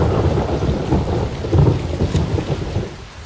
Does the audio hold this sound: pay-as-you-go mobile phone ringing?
no